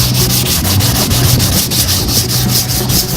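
A hand sands a car body with 240-grit sandpaper in quick back-and-forth strokes. The scuffing is close, loud and rhythmic, with no talking.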